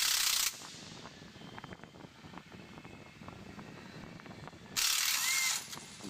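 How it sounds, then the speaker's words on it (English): An Ingersoll Rand 3/8 hammerhead air ratchet over-tightening bolts, two loud bursts of high pneumatic hiss and rattle at the start and near the end, separated by quieter clicking, ratcheting and handling noises. "Now I'm going to over tighten both bolts"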